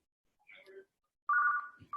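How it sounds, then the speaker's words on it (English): A phone rings mid-conversation with short tonal electronic bursts, a faint trill followed by a louder sustained ring that cuts off and starts again, close to the microphone. "my phone is ringing"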